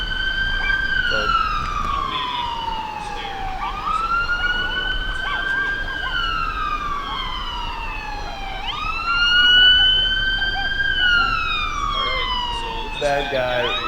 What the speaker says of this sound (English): that guy is not stopping right away, and he has a siren going